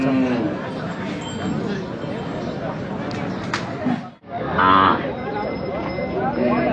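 Bulls low and moo at the busy Belhe cattle market, heard under constant nearby conversation, with a brief lull before the crowd noise returns.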